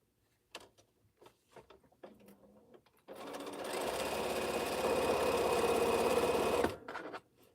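Sewing machine stitching fabric, starting after a few soft handling clicks and running steadily and loudly for about three and a half seconds before stopping, close by.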